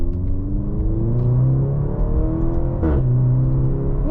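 Maserati Grecale GT engine in sport mode: a loud, close engine note climbs and falls in pitch as revs rise, shift, and rise again, with a steady whirring undertone.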